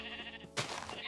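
A sheep bleats in the video game Minecraft, a short wavering cry followed by a sudden sharp hit sound, faint and close with game ambience behind.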